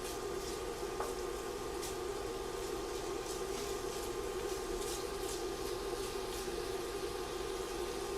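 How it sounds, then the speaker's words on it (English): Smoked bacon strips fry until crispy in a pan, giving a steady, moderately quiet hiss and crackle throughout with occasional faint pops. "because we're getting the bacon nice and crispy"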